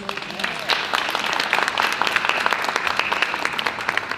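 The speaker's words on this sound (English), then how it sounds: "please join me in giving a round of applause for our panelists" Audience members applaud panelists at the close of a conference session, giving a continuous, moderately loud round of clapping with no talk over it.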